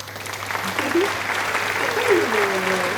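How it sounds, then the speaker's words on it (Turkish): Hands clapping from a small group of people at home during iftar cooking, a steady patter lasting throughout with a voice sliding over the clapping. "alkış edin arkadaşlar"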